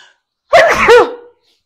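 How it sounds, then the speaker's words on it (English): A single loud, close human sneeze, a sharp burst lasting under a second, heard alone against silence. "hold on, I have to sneeze"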